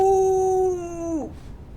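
A person imitates a wolf howl, giving a single sustained, loud, clear howl that slides downward and breaks off at the end.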